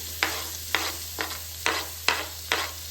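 Onion fries in a spoonful of oil and a spoonful of butter, a continuous sizzle broken by six rhythmic scraping stir strokes, close and fairly loud.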